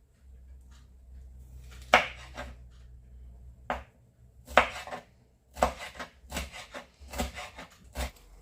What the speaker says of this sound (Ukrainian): нарізаємо перчик нарізаємо соломкою, так як і капусту